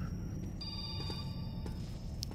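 A telephone rings in the video game Metro 2033, a steady electronic trill sitting faintly over the murky background ambience of the game for about two seconds.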